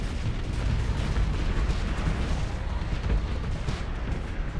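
Ships exploding in a Starsector space battle: a continuous dense rumble of booms and blasts with low bass thuds layered together, steady and loud throughout with no clear gaps.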